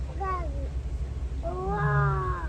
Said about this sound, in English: You hear that? That's a lion roar.